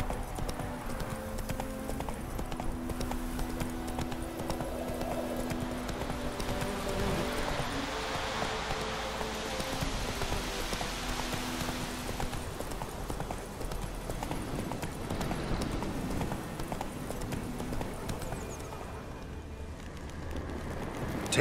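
Roach, the horse in The Witcher 3, trots steadily with continuous rhythmic hoof clip-clop over a constant game ambience for about twenty seconds, easing slightly near the end.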